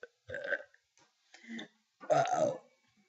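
Three odd, guttural burps in a row, close and fairly loud, the last one longest and deepest, with short silences between them and no speech.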